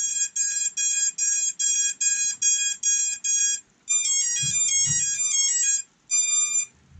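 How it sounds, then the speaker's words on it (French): A racing drone's motor calibration beeps: a series of short, evenly spaced electronic tones, followed by a faster rising and falling pattern of beeps and then one final tone. "ça c'est les bips de calibration moteur"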